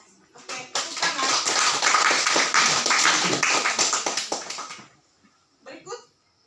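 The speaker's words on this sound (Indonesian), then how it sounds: "Oke, tepuk tangan." Students applauding in a classroom after a group presentation, a dense burst of hand claps lasting about four seconds that fades out, followed by a short murmur of voices.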